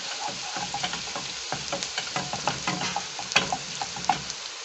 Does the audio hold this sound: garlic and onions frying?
yes